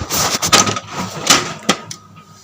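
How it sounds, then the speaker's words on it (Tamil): Toner cartridge door of an HP LaserJet M1136 MFP laser printer being shut, giving a few sharp plastic clicks and clunks close by, with a louder snap near the end and no talk. "இதுவே நான் இந்த டோரை க்ளோஸ் பண்ணுற பாருங்கள்."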